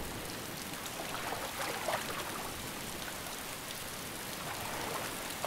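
Rain falls in the DayZ video game as a soft, steady hiss of drops and trickling water, faint and continuous with no talk over it.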